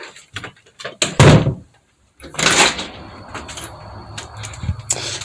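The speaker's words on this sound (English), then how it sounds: "get the door here" A door being opened at home, heard as a series of close knocks and a handling clunk, then a sharp rattling burst and a gap of silence, followed by more loud clatter and scraping.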